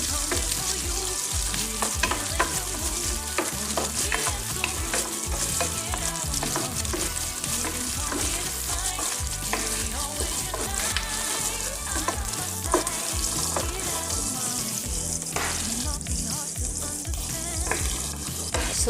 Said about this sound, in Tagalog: Diyan din natin igigisa ang ating onion.